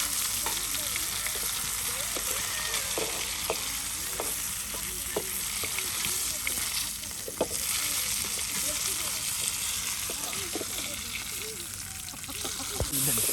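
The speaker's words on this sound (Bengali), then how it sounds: "এই যে এখন পেঁয়াজ ভেজে নেওয়া হচ্ছে" Onions fry in oil at a riverside family cooking spot with a constant loud sizzle and frequent scraping and clinking from stirring. Voices talk now and then in the background.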